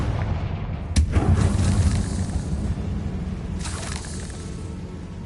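Two explosive bursts from a Confringo spell in a Harry Potter video game, a sharp blast at the start and a softer one later, set against a steady rumbling game soundtrack.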